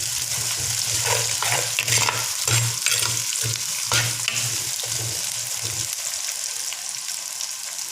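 Green chili, red chili, ginger and garlic fry in a pan for a chicken curry. A loud, close, crackling sizzle is broken by repeated stirring scrapes, with a low hum running steadily underneath.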